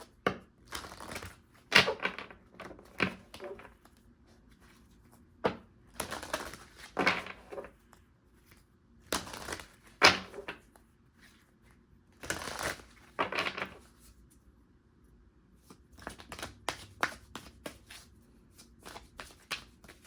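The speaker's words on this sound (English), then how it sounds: "Now we're going to grab an Enchanted Map Oracle card to see what is coming towards you." Cards from an Enchanted Map Oracle deck are shuffled and drawn in repeated short, papery bursts of riffling and shuffling, close and fairly quiet, with pauses in between.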